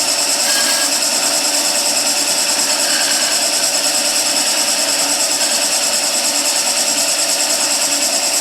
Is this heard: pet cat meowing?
no